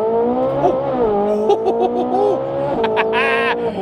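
A sports car engine revving and accelerating nearby, with a rising, harmonically rich roar and shifting pitch, plus brief higher whining bursts near the end.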